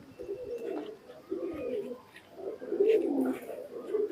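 Indian high-flying pigeons coo softly nearby in repeated low, throaty phrases, with short pauses between calls and a faint murmur in the background.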